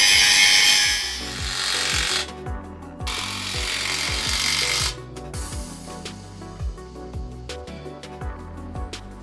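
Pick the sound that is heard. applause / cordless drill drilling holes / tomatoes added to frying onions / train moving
cordless drill drilling holes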